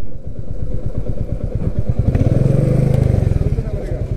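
A motorcycle engine idles and putters close by at the Rohini toll plaza on the road to Darjeeling, a loud, even pulsing throb that gets slightly stronger partway through.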